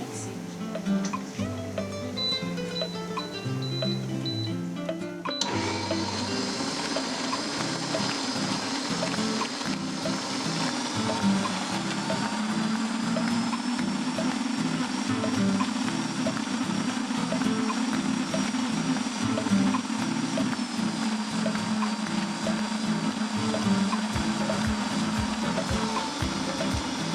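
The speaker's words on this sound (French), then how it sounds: "Maintenant, nous laissons nous melon d'eau mixer." A blender whirs away mixing watermelon, starting with a short burst of background music and then a steady, close, loud motor roar that runs unbroken to the end.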